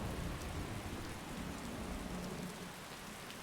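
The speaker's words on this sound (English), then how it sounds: "For a moment there I was scared that the thunder was here because it's raining right now" Steady rain and low rumbling thunder play as ambient weather effects in Skyrim with the Wildlander mod, a continuous soft wash of falling rain with a deep rolling undertone throughout.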